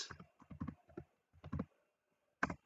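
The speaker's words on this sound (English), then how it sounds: "I'll start by typing AZ-VM, then create," Typing an Azure CLI command on a computer keyboard: quiet, close key clicks in short irregular bursts, then a pause and a final sharper tap.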